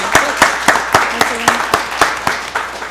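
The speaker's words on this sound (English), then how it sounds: "Let's give them another round of applause." Slow, evenly spaced handclaps, roughly ten sharp hits, from a county board of commissioners meeting audience, with a murmur of voices underneath.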